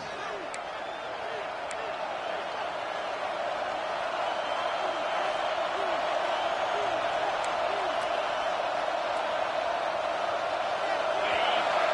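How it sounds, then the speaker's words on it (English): A stadium crowd in an American football video game, a steady, rising roar that builds louder on a third-down defensive stand, with a commentator talking over it throughout. "Decibels rising as the crowd gets behind this defense on 3rd down"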